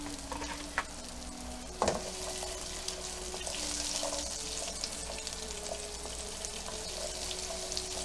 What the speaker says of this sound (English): now we're going to start working on the onion. Onions go in.